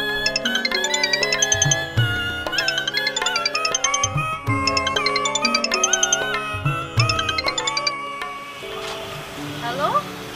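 A phone ringtone plays as a repeating melodic tune in steady bursts for about eight seconds during an outgoing call, then stops and gives way to quieter room sound.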